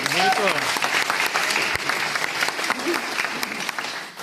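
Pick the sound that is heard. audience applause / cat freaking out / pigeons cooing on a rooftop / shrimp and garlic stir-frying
audience applause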